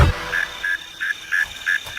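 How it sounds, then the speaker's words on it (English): A mole cricket sings from its underground burrow in soil, giving a steady series of short, loud, evenly spaced chirping pulses of about five per second, close and clear with no voices. "The mysterious MC at number 5 in the countdown is the mole cricket."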